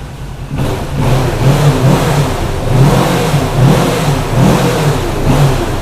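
A 2017 Kawasaki Ninja 650 KRT ABS motorcycle engine revs under the throttle, a loud, close, continuous growl that rises and falls in repeated swells after a brief quiet start.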